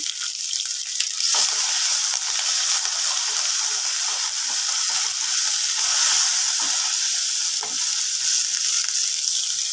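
Curry leaves and ginger-garlic paste sizzling hard in a pan for sambar, a loud continuous hiss broken by occasional scraping strokes as the mixture is stirred.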